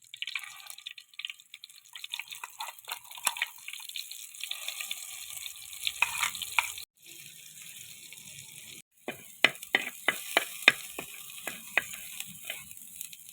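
Masala paste hitting hot coconut oil in a clay pot: a soft, steady sizzle with crackling pops and sputters, a brief hush, then a run of sharper spattering bursts.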